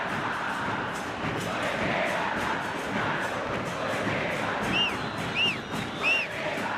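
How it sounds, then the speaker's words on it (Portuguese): Football supporters behind the goal at a 2012 Copa Libertadores round-of-16 match between Emelec and Corinthians roar as a dense, steady crowd din, with a few whistles rising near the end. "Essa é a torcida mais animada da equipe, que fica atrás do gol"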